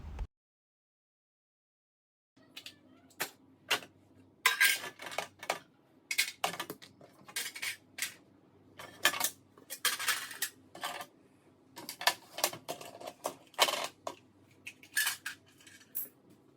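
Children's tiffin boxes are taken out of a kitchen drawer with repeated clattering clinks and knocks that come in quick irregular bursts, close and fairly loud, over faint background hum.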